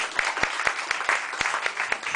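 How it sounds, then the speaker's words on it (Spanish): Audience applause at an arts café gathering, close and steady clapping with a few sharp louder hand claps standing out in a brief burst. "Un aplauso para..."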